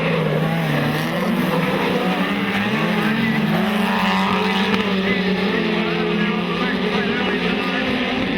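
Speedcar engines roar at a Queensland speedway race at Maryborough, one car accelerating hard with rising, wavering engine tones, loud and continuous amid other cars, with a commentator talking over the noise.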